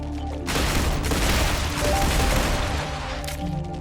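Gunfire in the video game Star Rupture, a dense burst of rapid, overlapping shots and crashes over steady game background noise, loud and continuous for a few seconds before easing off.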